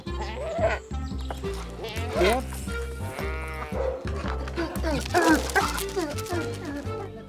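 Goats bleat repeatedly on a farm visited by a rescued lion cub, their cries overlapping in a busy, close cluster with a voice talking over them.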